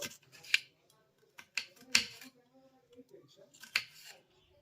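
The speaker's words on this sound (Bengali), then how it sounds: "এবার আমি এই ক্যাপসিকামগুলোকে এইভাবে একটু পাতলা পাতলা করে কেটে নেব" A knife slicing washed capsicums into thin strips on a board, giving a few sharp, separate cuts spaced irregularly, close and fairly quiet, with no talking.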